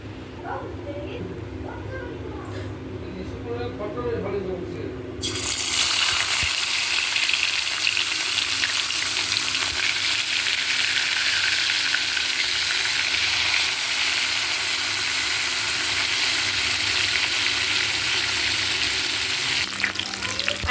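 Cauliflower goes into hot oil in a kadai: after a few seconds of quieter kitchen sound with a voice, a loud, close, steady sizzle bursts in and continues to the end.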